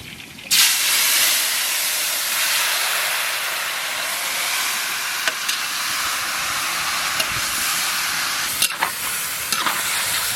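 Tomatoes hit hot mustard oil for a tomato chutney cooked for village tribal kids, setting off a sudden loud hiss that settles into a steady, close sizzle with occasional pops and clinks.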